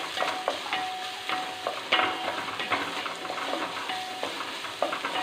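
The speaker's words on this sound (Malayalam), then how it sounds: "സവോള നാല് പച്ചമുളക് കൊടുത്തു ഇതൊന്ന് വഴച്ചു വെ" Sliced onion and four green chilies sautéing in a pan for a quick curry, a continuous close sizzle punctuated by regular scraping strokes of a spoon stirring the pan, with no talking.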